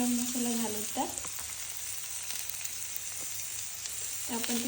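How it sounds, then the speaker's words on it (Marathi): Green chickpeas sautéing in a pan with salt and garam masala, a steady close sizzle with light stirring scrapes and a few brief clinks throughout. "छान परतून घेतलेले आहेत मी हरभरे"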